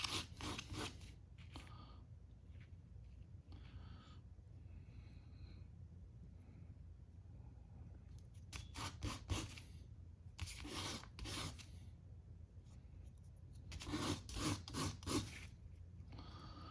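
Hand sanding with fine 600-grit sandpaper on a Ruger 57 pistol part, short faint scratchy rubbing strokes in separate bursts over a low background hum.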